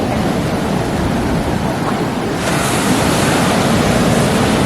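Ocean waves wash in at Besant Nagar beach in Chennai, a dense, continuous surf roar that swells louder halfway through as a breaker rolls in, with wind rumbling across the microphone and no voices.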